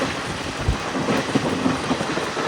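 A passenger train, a Sabarimala special, runs along tracks near Tandur in Telangana, heard from inside the coach as a steady loud rumble with faint rhythmic rail clatter.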